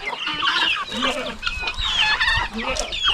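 A flock of chickens clucks continuously close by, with high chirps of chicks woven through the lower clucks in a busy, overlapping chorus.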